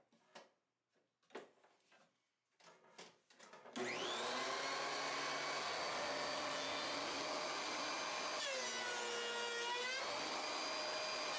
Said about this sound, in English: Unclamp the glue up and send it through the planer until it's about an inch thick for a sleeker look.